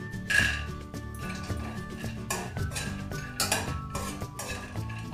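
Chopped almonds being fried in a pan while making flattened rice laddu, heard as a steady scrape and clink of a spoon against the pan under background music, with faint sizzling throughout.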